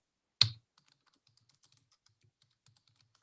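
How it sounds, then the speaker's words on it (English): Computer keyboard typing: one sharp, loud knock followed by a long run of very faint, light key clicks in an otherwise quiet room. "You can hear me typing now."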